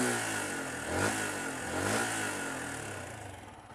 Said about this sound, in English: So I'll give it a few revs anyway.